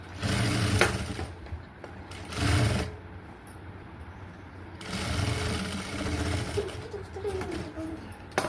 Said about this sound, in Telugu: ఇప్పుడు దీని మీద లోపలికి వెళ్తుంది కనుక ఎడ్జ్ కుట్టేద్దాం